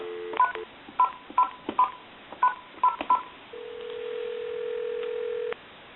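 A run of touch-tone dialing beeps from a GE 25881EC A telephone, about ten quick tones in a row calling a time-and-temperature line, followed by a sustained tone that abruptly stops.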